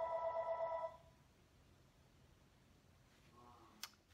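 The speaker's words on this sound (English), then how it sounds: "Phone rang." A telephone rings once at close range, a brief electronic tone that cuts off after about a second, followed by quiet room tone and a faint click near the end.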